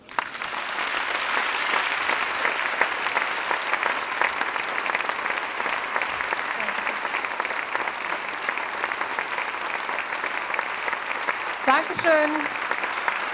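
Audience at the Leibniz-Fest in Bonn applauding a comedian, dense sustained clapping filling the room, with a voice briefly speaking over it near the end.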